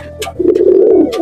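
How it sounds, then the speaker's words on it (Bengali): Pigeons in a loft give a single close, loud, rolling coo lasting about a second, with a faint flutter just before it. "এই হচ্ছে পায়রাগুলো"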